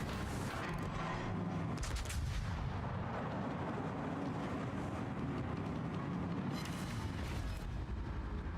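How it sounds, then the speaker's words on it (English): Naval gun volleys in World of Warships, heavy booming artillery fire layered over a constant loud rumble of engine and sea noise, with sharper blasts near the start and again toward the end. "Let's get another volley in on this guy then."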